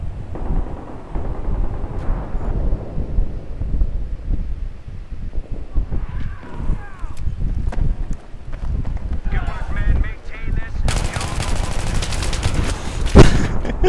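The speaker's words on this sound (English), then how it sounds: "same M16, A4 with a burst, foregrip, laser sight, and of course that damn Acog" M16A4 rifle firing in bursts during Battlefield 3 gameplay, with repeated gunfire and game noise under continuous speech.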